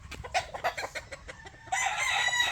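Gamecock roosters, brood stags and battle stags on a Batangas farm, cluck in short bursts close by, then one lets out a loud crow near the end.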